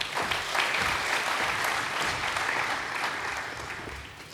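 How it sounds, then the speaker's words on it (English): An audience at the Africa Blockchain Conference in 2019 breaks into sustained, dense applause in a hall that fades slightly toward the end. "Ladies and gentlemen, can we please give another warm applause for that intervention?"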